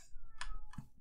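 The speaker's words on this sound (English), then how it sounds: "Can you hear the cat?" A cat meows from outside a closed bedroom door, two short muffled calls heard indoors at moderate distance, the second lower and cut off, over a faint steady room hum.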